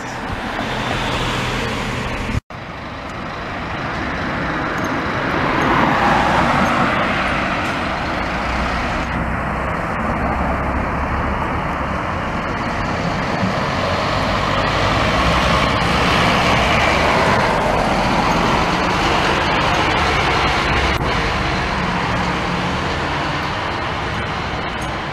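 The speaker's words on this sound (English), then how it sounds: "I love this old bus. It's such a good bus, you can hear it from hundreds of meters away." Old bus engine passing in traffic in Wodonga, a loud, rumbling diesel roar that swells and holds for a long stretch after a sharp thump near the start, with steady road noise and no talking.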